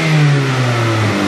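A Ford Fusion revs hard in park, its engine note starting high and holding a loud, strained roar before easing slightly, close up, with no talking.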